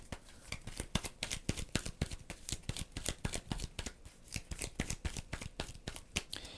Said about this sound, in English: They're going to shuffle their deck.